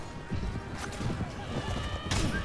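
A horse's hooves clip-clop in a medieval battle in the Mount and Blade Warband video game, a quick steady run that sounds fairly near, with a faint neigh and talk over it.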